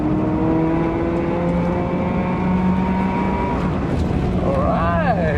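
An 18-year-old Perodua Myvi driving up the winding road to Genting, a steady loud engine drone heard from inside the cabin with a brief tire squeal near the end.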